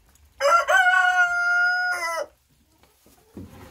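One chicken from a laying flock lets out a single loud, drawn-out crow close by. Quiet follows, then a brief low rustle.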